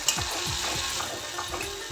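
A paste of cashew, green chili and raisin fries in hot oil with a pinch of sugar for a paneer dish, giving a steady close sizzle with repeated scraping stirs throughout.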